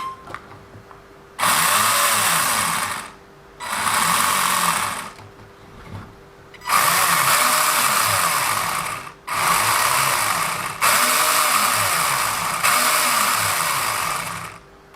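A WLToys 144001 RC car with an upgraded metal-gear center driveshaft whines in bursts, its drivetrain giving a buzzy rubbing drone. Five runs of a few seconds each are broken by short pauses.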